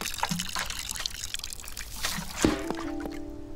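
Water trickles softly from a watering can onto a cradle fern in the video game Botany Manor, a faint, steady pour with small drips and a brief chime near the end.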